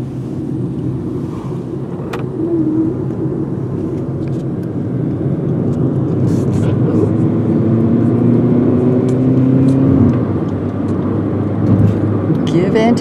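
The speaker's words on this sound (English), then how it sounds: "Yeah, the car is moving." A car moving along the road on the way to the vet, a steady low rumble of road and engine noise with some wind buffeting, while people talk inside the vehicle.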